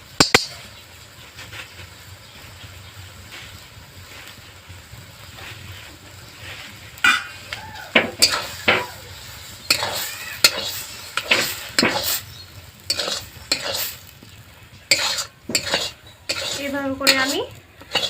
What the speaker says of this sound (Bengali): খুন্তি দিয়ে নাড়িয়ে নাড়িয়ে একটা ডো বানিয়ে নেব